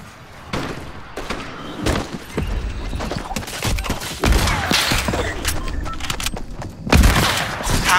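Hunting rifle shots ring out in a video game firefight, a run of loud, sharp cracks and thuds spread irregularly across the stretch, with a heavy burst near the end.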